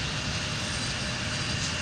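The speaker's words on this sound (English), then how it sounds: "the aircraft behind it, Mesa Airlines for United Express, headed to Houston with an Embraer E175 LR" A Mesa Airlines Embraer E175 LR jet, operating for United Express at Minneapolis–Saint Paul airport, gives off a loud, continuous broadband engine roar with no break over the short stretch.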